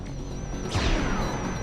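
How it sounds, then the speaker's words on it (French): In Ratchet & Clank: A Crack in Time, on planet Terachnos, a sudden ion cannon blast bursts in over a steady electronic hum, a sweeping whoosh and crunching impact that rings out before fading into the background drone. "Canon ionique armé, feu!"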